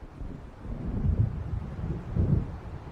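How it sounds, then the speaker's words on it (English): Distant thunder of an approaching storm in Alan Wake Remastered, low rolling rumbles swelling twice over steady wind and faint rain, deep and muffled with no voices. "It seems there's a storm coming."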